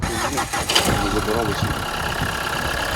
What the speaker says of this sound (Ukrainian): Ми одразу зробимо впуск на холодну, трошки відженемо його